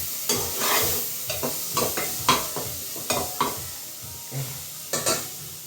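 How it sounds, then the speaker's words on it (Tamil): Garlic sizzles softly in a pan while being stirred for bitter gourd curry, with a spatula scraping and tapping the pan in an irregular rhythm of close, distinct knocks. "அந்த பூண்டு எல்லாம் போட்டு மிக்ஸ் பண்ணணும். ஓகேங்களா. நல்லா வதக்கணும்."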